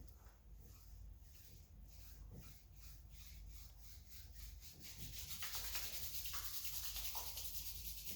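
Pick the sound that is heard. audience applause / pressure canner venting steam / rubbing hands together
rubbing hands together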